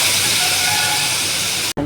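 Potatoes dropped into a hot pan for an aloo palak curry, giving a loud, steady sizzling hiss that runs unbroken before cutting off abruptly near the end.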